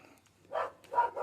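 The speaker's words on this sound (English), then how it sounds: "Oh, dogs are off again." Dogs barking outside, a few muffled yelps at a distance in quick succession, faint and brief.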